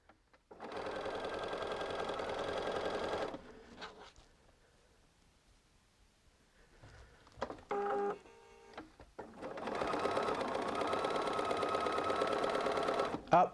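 A sewing machine chain-pieces checker squares for a Christmas Fair Isle poinsettia quilt, running in two long steady bursts separated by a quiet pause with a short clatter of handling between them.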